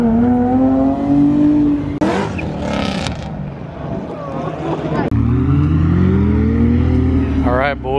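Ferrari 488 and Lamborghini SVJ supercars rev and accelerate away, engines rising in pitch through gear changes, loud and close, with crowd chatter and shouts at a roadside car meet.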